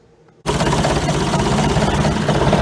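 A 602 engine idling on a farm machine at the start of corn harvest, starting abruptly after a brief quiet moment and then holding a loud, steady, close rumble with a rough low pulse throughout.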